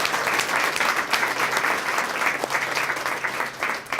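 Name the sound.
audience applause for breakfast sponsors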